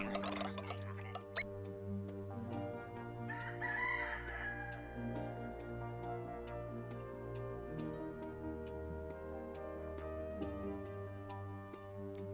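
Chickens and a rooster in the video game dotAGE: a rooster crows near the start amid clucking, over steady looping game music with regular ticking beats throughout.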